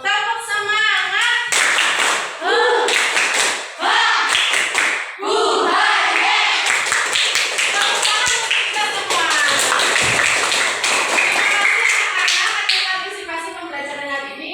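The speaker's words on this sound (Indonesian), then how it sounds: "kita tepuk semangat dulu" A classroom does the rhythmic tepuk semangat clapping chant, patterned bursts of group claps and taps alternating with chanted voices, loud and energetic throughout.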